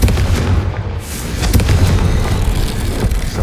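A Confringo fire spell explosion in the Hogwarts Legacy video game, a loud booming blast with a dense rumbling tail that carries through several seconds of game noise.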